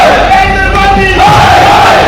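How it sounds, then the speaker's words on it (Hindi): Protest crowd chanting slogans inside a metro station, a loud, dense mass of voices shouting together with echoing, rising and falling cries filling the enclosed space. "लोगों ने मेट्रो स्टेशंस के अंदर ही नारे लगाने शुरू कर दिए।"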